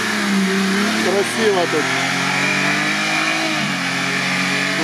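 A military Mercedes G-Class off-roader's engine drones steadily and loud, its revs sweeping up and down, while someone speaks briefly over the noise.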